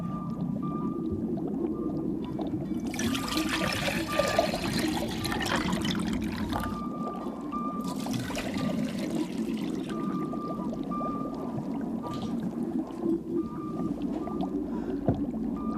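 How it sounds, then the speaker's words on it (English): Water pours and splashes in two long bursts, with trickling between them over a low background hum. "Now I'm going to put the water that we displaced earlier on the other side."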